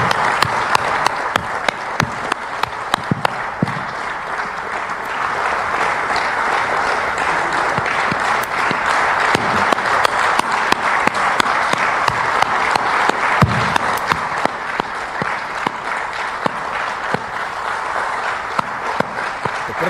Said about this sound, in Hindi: इस बैठक में एनडीए नेताओं ने प्रधानमंत्री का तालियों से जोरदार स्वागत किया है।